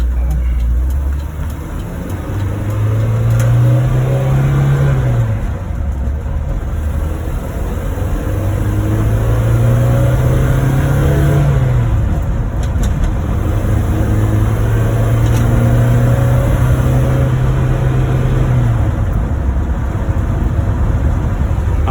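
A petrol-fuelled car engine hums steadily while driving, a low drone that rises and falls in pitch over several long gear pulls, close and loud under ambient road noise.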